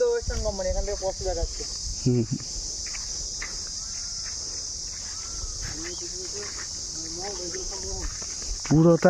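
Crickets in a forest near Bangalore, a continuous high shrill chirring drone that persists steadily throughout while someone talks over it at intervals, with light footsteps and rustling.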